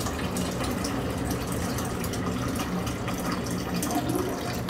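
Filtered water pours steadily from a tap into a jar for kombucha making, a continuous, fairly loud splashing rush that rises slightly in pitch as the jar fills, with no talking.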